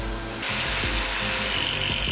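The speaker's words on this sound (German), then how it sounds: "Zum Sägen der Sperrholzplatten verwende ich ein Feinzahnsägeblatt 50 mm mit ganz feinen Zähnen" A saw fitted with a fine-tooth 50 mm blade cuts steadily through plywood sheet for a dry separation toilet, a continuous loud rasping drone with faint rhythmic strokes and no pauses.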